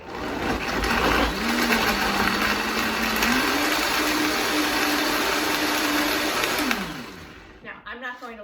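A Vitamix blender whirs loudly close by, its motor pitch climbing in steps from low to high speed and holding there for several seconds before it shuts off and winds down.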